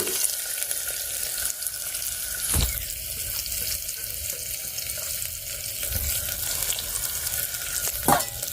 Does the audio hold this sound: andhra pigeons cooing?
no